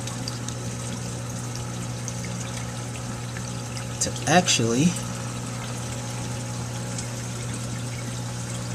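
Water returning from a Phosban 150 reactor tumbles gently in an aquarium setup, a brief splashing pour rising mid-clip over a steady pump hum, with a voice speaking briefly.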